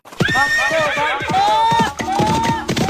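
A comedic horse neigh sound effect: a loud, drawn-out whinny with shaking pitch fills the clip, over a rhythmic clip-clop backing.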